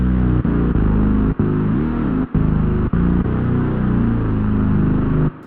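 A dense, buzzing two-oscillator detuned synth bass line glides legato between notes with brief gaps, loud and continuous, its layered tones giving a wide, slightly wavering sound.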